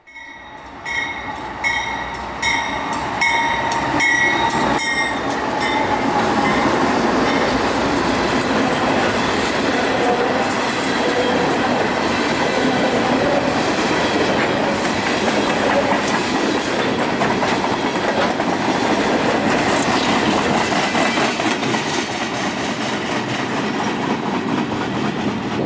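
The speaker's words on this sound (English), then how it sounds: "an empty NS coal train." An empty Norfolk Southern coal train passing close by on tracks in Virginia, with a horn blast at the start and then a long, loud, continuous roll of wheels and rattling empty cars.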